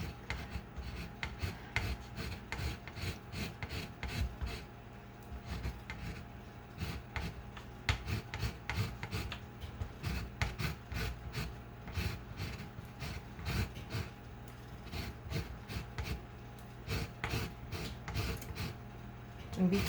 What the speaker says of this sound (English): I'm just going to rasp in a continuous motion so I only get the very top of the rind